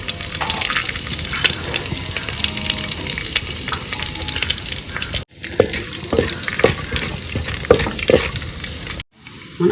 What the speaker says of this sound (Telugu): నూనె వేడెక్కింది. ఇందులోకి తాలింపు దినుసులు, ఒక ఎండుమిరపకాయ వేసేసాను.